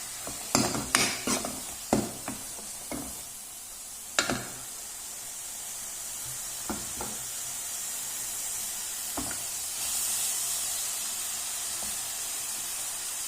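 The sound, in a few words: curry leaves and green chilies sizzling, sautéed in a pan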